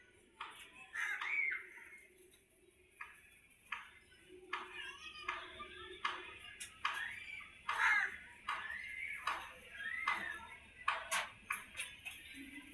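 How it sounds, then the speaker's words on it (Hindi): Crows caw in harsh, repeated squawks, some near and some farther off, settling on a tin roof beside scattered food, with faint outdoor background and occasional child-like voices. "ये देखिए कौवे आके बैठ गई है"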